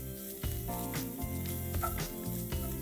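Chopped celery sautéing in a hot pan while a paneer starter stuffing is cooked, a steady broadband sizzle with bursts of louder crackle as the pieces are stirred, close and alone.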